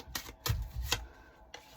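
Tarot cards are shuffled by hand in a few quick, soft riffling bursts separated by short pauses, quiet and close with no talk.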